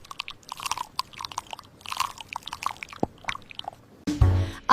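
Someone bites into and crunches an apple at dinner, a short burst of loud, close crisp chewing that comes near the end after a stretch of quieter mouth and table noises.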